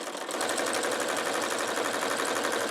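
A sewing machine stitches a buttonhole on a chenille shamrock pillow, its rapid, even mechanical chatter running continuously, close and steady with no voices.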